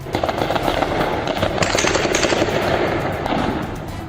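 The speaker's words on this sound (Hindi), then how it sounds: "खामेनेई के खिलाफ विद्रोह कर रहे लोगों को चुन चुन कर गोली मार रही है" Dense, rapid gunfire in a street in Iran during protests, a continuous loud rattle of bursts filling the whole stretch with no pauses, harsh and close, with no voices heard over it.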